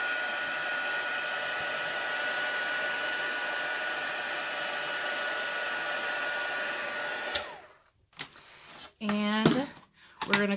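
A hair dryer runs loud and steady for about seven seconds while drying an inked craft card on an archival pad, then cuts off, leaving brief rustling and a short burst of voice.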